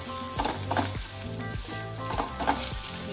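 Chopped onion sizzles and crackles in a hot pan, with steady frying hiss and a few stirring scrapes at regular intervals, close and fairly loud.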